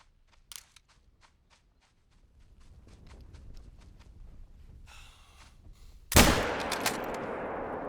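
In theHunter: Call of the Wild, a rifle cracks loudly at a game animal, a single sharp close shot. Faint clicks and rustling movement come before it, and a lingering echo follows.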